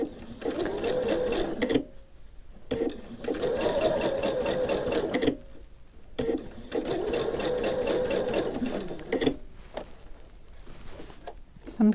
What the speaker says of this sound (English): get a feel for how to feed the fabric through the machine